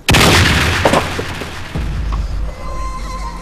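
Gunfire in a comedic film spoof, a loud sudden blast followed by a rumbling, crackling decay and a lower echoing boom.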